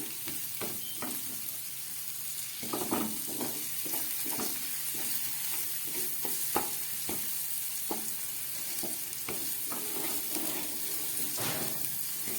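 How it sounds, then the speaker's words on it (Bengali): Onion frying with salt, turmeric and tomato in a pan over medium heat, a continuous close sizzle broken by repeated spatula scrapes and taps at an irregular pace. "নুন, হলুদ, টমেটো সব দিয়ে ভাজা হয়ে গেল আমার পেঁয়াজটা"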